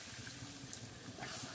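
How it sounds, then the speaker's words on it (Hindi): Water is poured into a pan of potato curry, a short continuous splashing gush heard up close with no talk. "अब इसमें डाल देंगे पानी"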